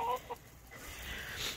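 Hens give a quick burst of clucks while being herded into their coop, loud and close at first. Softer fowl murmurs follow in the brief stretch after.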